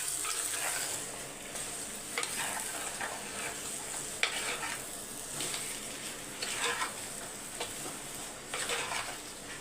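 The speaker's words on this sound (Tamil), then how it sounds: "சேர்த்து நல்லா மிக்ஸ் பண்ணி விட்டுடலாம்" Village-style chicken curry sizzling and frying in a pan while it is stirred, with a steady crackle and periodic scraping strokes from the spoon, close and continuous, with no voices.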